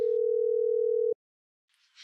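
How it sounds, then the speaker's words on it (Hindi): A telephone ringback tone sounds as a call goes through: one steady, even tone lasting about a second, then it cuts to near silence before a faint rustle. "और घंटी तो जा रही है।"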